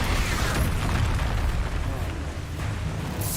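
An Expulso spell explosion in Hogwarts Legacy: a dense, loud, continuous roar of blasts and rumbling debris that fills the whole moment without a break.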